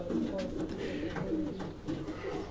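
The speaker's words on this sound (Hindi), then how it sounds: "ये बटेरे कबूतर हैं" Butera breed pigeons, a Sialkot strain, cooing softly in a loft with overlapping low throaty calls and faint background chatter throughout.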